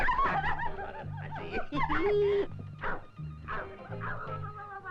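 A dog makes snorting, whining vocal sounds in short bursts, close by, with some breathy chuckle-like noises mixed in.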